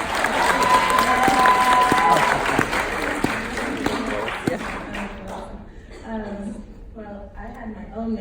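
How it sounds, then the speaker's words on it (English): Audience applause at a retirement celebration for Dr. Irene Peery-Fox, a loud burst of clapping from a room of people that fades after several seconds as a voice begins talking. "Can we just get a round of applause"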